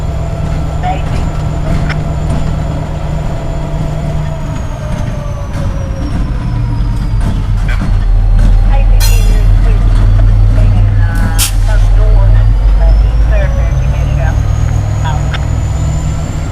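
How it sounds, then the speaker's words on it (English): Norfolk Southern locomotive 6024 with a slug rolls past trackside at night, a loud, steady low diesel rumble with rail noise and brief squeals throughout, while people talk over it. "6024 rolling with a slug tonight, 861."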